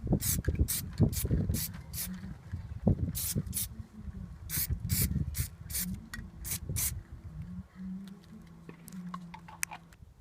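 Repeated short bursts from an aerosol can of Plasti Dip as a first light coat goes onto a Chevy Blazer emblem, a dozen or so quick hisses in irregular rhythm over a low background hum, close and fairly loud, with no talking.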